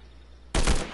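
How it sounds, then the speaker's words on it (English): Video game gunfire bursting in suddenly after a quiet hum, a loud rapid volley of shots that rattles on for half a second and begins to fade. "they're firing at me"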